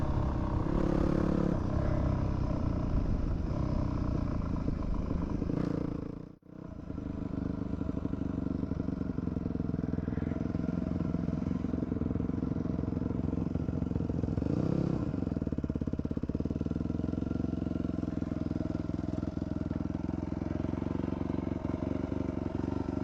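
A dirt bike ridden on a public street, its engine droning steadily and close throughout with a brief dip near the middle, accompanied by rushing wind noise, no talking.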